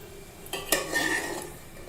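A utensil scrapes and clinks in a pan as fried cashews, raisins and pistachios are lifted out of ghee while making payesh, a short close clatter with a faint sizzle beneath.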